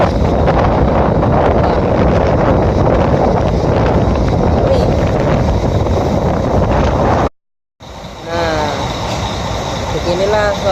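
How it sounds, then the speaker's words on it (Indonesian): Sea waves washing against a ferry crossing the Bali Strait at night, loud continuous rushing water and wind buffeting the microphone, a short dropout, then engine hum with brief voices. "Ombaknya pemirsa, saya sampai kecipratan itu."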